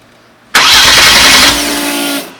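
A Kia V6 twin-turbo engine swapped into a DeLorean cranks briefly and catches, bursting into a loud, close rumble that settles into a rough idle before easing off slightly at the end.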